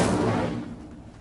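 The Incendio fire spell is cast in Hogwarts Legacy: a single loud, broad burst of flame that erupts at once and quickly tails off.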